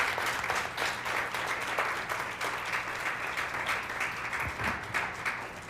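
At an annual symposium, an audience gives a sustained round of applause for two speakers, many hands clapping in a dense, even stream at moderate volume, with a low hum under it.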